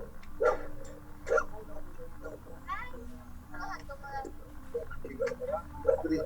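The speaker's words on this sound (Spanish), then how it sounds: "callen ese perro" A dog barks in short, sharp yelps in the background of an online class. The barks come at irregular intervals beneath a person talking.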